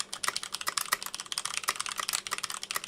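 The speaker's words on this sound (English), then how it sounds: "I've been typing like this for 25 years" Rapid, uneven clicking of keys on a computer keyboard, steady close-up typing with no talking over it.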